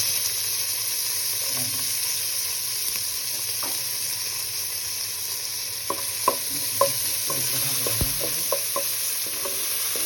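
Onions frying in hot oil in a pan for a Katla fish and potato curry, a steady loud sizzle throughout with several sharp spatula scrapes and clinks toward the end, no talking.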